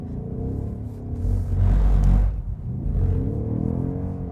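A 2024 Ford Mustang GT's naturally aspirated V8 revs hard while drifting, a loud, close engine roar that swells to a peak mid-clip, eases off, then climbs again, with no talk over it.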